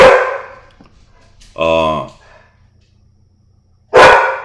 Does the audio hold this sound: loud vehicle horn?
no